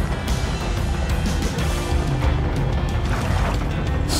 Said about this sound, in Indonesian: Ada suara ledakan di mana-mana itu.